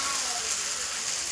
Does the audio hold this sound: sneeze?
no